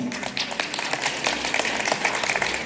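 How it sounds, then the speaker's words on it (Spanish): Wedding guests clap together in a steady, dense burst of applause that carries on through the whole stretch at an even, fairly loud level, with no speech over it. "queremos ver esas bonitas palmas que suenen, señoras y señores"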